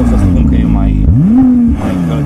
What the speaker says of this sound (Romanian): se aude mult mai bine V6-ul ăsta